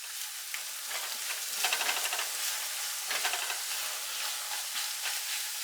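Constant crackling sizzle of eggs frying in a hot pan over medium-low heat, with small pops and bursts of spitting over an even hiss.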